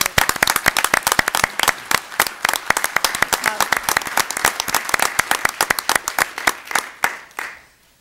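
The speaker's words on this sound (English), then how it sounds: "I think these 3 people deserve a great round of applause in advance of this" Round of applause at a village board of trustees meeting, a small group clapping in crisp, distinct, close claps that fade out at the end.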